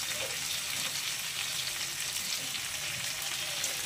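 Ridge gourd sizzles in a hot pan while water spinach and mung dal cook, a soft and steady frying hiss that stays even throughout, with no talking.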